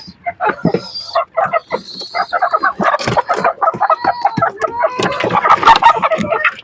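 Hens cluck busily and continuously close by, a dense chatter of short clucks and squawks with occasional louder calls.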